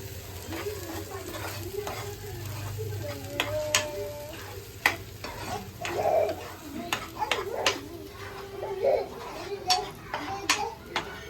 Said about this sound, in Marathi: मस्तपैकी वाटण जे आहे ना ते शिजलं पाहिजे.